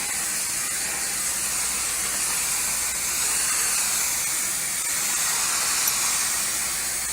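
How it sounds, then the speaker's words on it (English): A Dupray NEAT steam cleaner hisses steam through a 3M pad onto a hard floor in a loud, continuous, even rush from start to finish. "the steam will go right through the bottom of the 3M pad"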